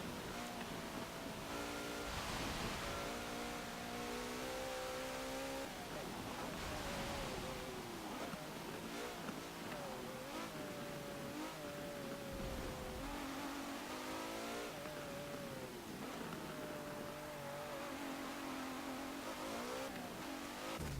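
Engine of a 2017 Maserati Levante S in Forza Motorsport 7, revving continuously through long gears with rising and falling pitch, loud and steady throughout with no talking.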